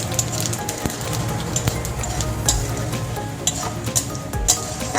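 White cumin seeds tempering in hot oil, previously used to fry eggplant with salt and turmeric: loud, close, continuous sizzling and crackling with small popping bursts, no talk.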